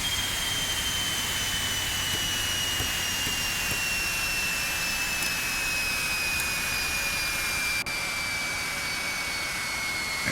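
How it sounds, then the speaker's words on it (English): Jet engines spooling down in the X-Plane 11 flight simulator, a steady loud whine slowly falling in pitch over a broad roar that continues throughout. "Listen to those engines spool down."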